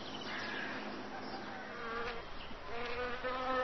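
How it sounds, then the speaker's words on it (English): A bee buzzes busily around flowers, a steady, continuous insect drone that holds close and clear throughout, swelling slightly louder toward the end. "The bee stayed busy buzzing round all the pretty flowers."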